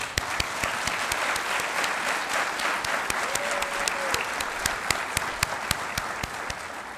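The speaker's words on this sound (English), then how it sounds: "Let's give her a round of applause, too." A round of applause from an audience at a first-generation student success event, a steady, even wash of many hands clapping with a few sharper individual claps standing out, sustained for several seconds without talk.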